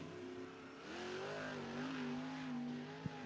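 A 360 sprint car engine fires back up at Cottage Grove Speedway during qualifying, a sustained droning roar at moderate distance with a rising and falling pitch and a short sharp pop near the end.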